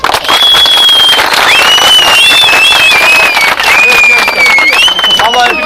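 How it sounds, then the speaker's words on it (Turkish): A loud crowd at an outdoor anti-terror convoy rally in Karaman applauds and cheers in a dense, continuous roar, with shrill whistles rising above it and voices shouting through the noise. "şu an buraya gelmemizi sağlayan önce Emret Bey için bir alkış alabilir miyim?"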